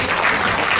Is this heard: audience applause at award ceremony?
yes